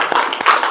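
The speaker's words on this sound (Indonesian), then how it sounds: "Tepuk tangan untuk kelompok auditori." Classroom applause for a student group after their presentation: a brief burst of scattered hand claps from a crowd of students, close and fairly loud.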